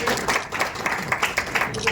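Welcoming applause from an audience at an industrial associations' felicitation event in Faridabad: a short, steady burst of many hands clapping at moderate volume, with no break.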